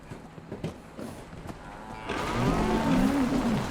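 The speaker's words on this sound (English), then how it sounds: "Comforting moo indeed." A Brahmin cow in Fallout 76 gives a loud, close, drawn-out moo with a wavering pitch. It starts after some soft footsteps and thumps and carries on to the end.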